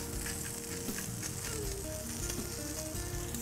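Pork mignon and asparagus searing in a pan, giving a steady, close sizzle with crackling spits and faint scraping from a spatula, heard without talk.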